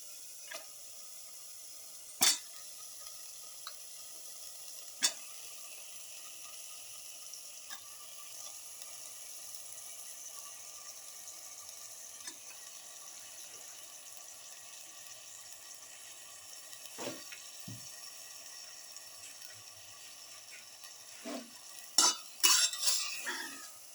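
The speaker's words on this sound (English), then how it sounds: "Mix in the lamb pieces with the rest of the mixture." Lamb pieces get stirred into a spice mixture in a hot pan, with quiet scraping and a soft sizzle beneath a few sharp utensil clinks against the pan, which grow busier toward the end.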